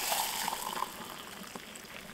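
Water brought to a rolling boil on a gas trekking stove outdoors makes a continuous hissing, bubbling wash, fairly close and steady, with a few faint clinks and no talking.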